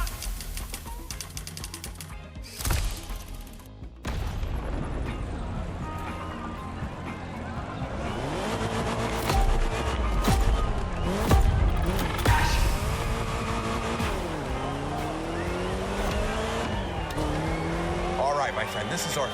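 A car engine roars and shifts pitch in the racing game The Crew Motorfest during a Hollywood action stunt scene, with tire noise and a loud game soundtrack running throughout and voices talking over it.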